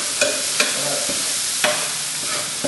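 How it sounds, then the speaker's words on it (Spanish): Plantains boiling in a pot, with steady bubbling and sizzling hiss broken by several sharp stirring scrapes and clinks, close and fairly loud. "Y los que estamos hirviendo plátano aquí."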